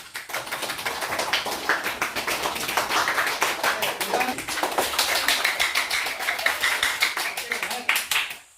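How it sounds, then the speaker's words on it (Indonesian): Steady applause from a classroom audience for a group's presentation, dense continuous clapping lasting several seconds at fairly even loudness before tapering off at the end. "berikan aplaus untuk kelompok 2"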